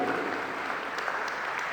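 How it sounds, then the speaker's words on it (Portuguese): During a Catholic sermon, a church congregation breaks into a short burst of dense, steady applause that fills the room evenly. "Vamos aplaudir essa palavra?"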